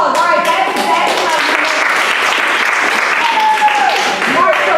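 An audience gives a dense, sustained round of applause at a leadership academy talk, loud and steady throughout, with voices underneath.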